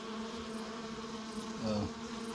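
Honey bees buzz steadily around hives being readied for a night move, a close, continuous droning hum with one louder bee passing near partway through.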